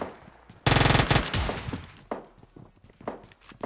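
A burst of rapid, fairly loud machine gun fire in PUBG Mobile lasts under a second, followed by scattered quieter shots, thuds and in-game footsteps.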